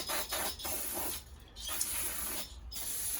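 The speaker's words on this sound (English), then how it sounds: "spray the box" Cleaner sprayed into the air box of a KTM motorcycle comes as several sharp, close hissing bursts, with short pauses between them and one longer spray in the middle.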